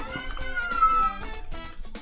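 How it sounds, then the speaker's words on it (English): A pet cat, a male, meows nearby, its voice rising and wavering through a drawn-out, insistent cry that runs over several short pulses, as if wanting to be let back inside. "I think I hear my kitty rearing."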